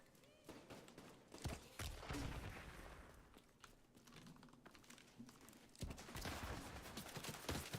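Gunfire in a shooter video game: a series of quiet, sharp shots and bursts spread through the clip, with some fast clicking underneath and a lull in the middle before the firing picks up again.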